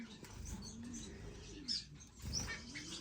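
Finches and canaries in an indoor bird room, with soft scattered chirps and tweets against a low background murmur, brief and fairly faint.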